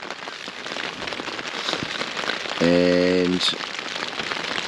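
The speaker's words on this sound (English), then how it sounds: "It's pouring rain." Heavy rain pours onto a tent in the early morning, a dense close patter of drops drumming continuously throughout, with a brief voice cutting in near the middle.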